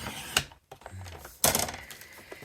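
A dulling blade cutting paper in a mixed media craft session, producing a couple of sharp crisp snips and scraping strokes, close and isolated with no talk.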